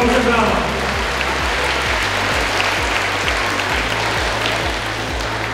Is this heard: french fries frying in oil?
no